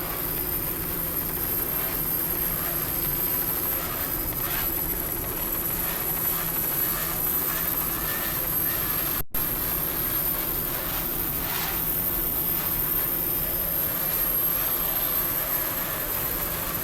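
Two 32-foot Skater offshore powerboats race at the 1995 Key West World Championships, their engines a loud, continuous droning roar that rises and falls slightly throughout.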